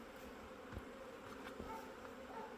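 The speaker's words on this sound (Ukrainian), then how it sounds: "О, бджоли спокійні. Ну раз спокійні, значить все хорошо." Calm honeybees buzz steadily around an opened hive in a soft, continuous hum, with a few closer individual drones passing now and then; quiet overall.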